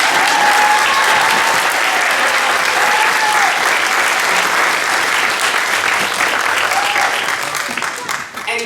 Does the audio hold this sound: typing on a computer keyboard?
no